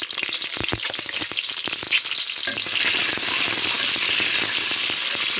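Eggs hit hot oil in a pan and fry, with scattered crackles and pops at first, then a louder, steady sizzle close by.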